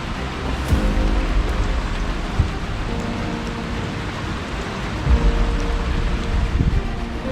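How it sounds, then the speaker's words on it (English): Heavy rain pours steadily through a severe storm with 60 mph winds, a dense continuous wash of downpour with a few louder gusts and splashes, no talking. "Rain pretty hard right now."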